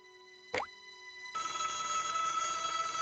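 A telephone in the Broken Sword adventure game, The Shadow of the Templars, rings with a short electronic trill after a click, then a steady tone continues over a soft background hum.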